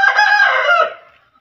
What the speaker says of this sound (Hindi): बांग माशाल्लाह अच्छी है इसकी